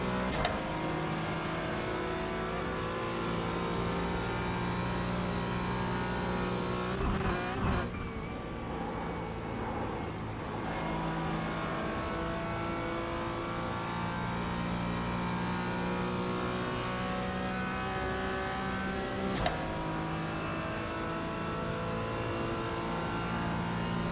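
Porsche Cayman GT4 racing at the Nürburgring in an endurance video game, engine droning steadily at high revs with long harmonic tones, a couple of brief clicks or bumps, loud and constant with no talk.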